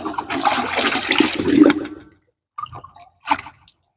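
Water rushing and splashing into a 5-litre container as half a litre of liquid fertilizer is mixed in, a loud steady pour for about two seconds, then a pause followed by two shorter sloshing bursts.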